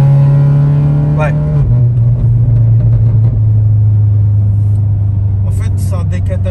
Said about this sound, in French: Ce que j'adore, c'est le passage de vitesse en pleine charge.